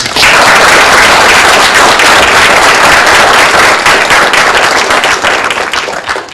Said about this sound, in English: let's thank our panelists with a warm applause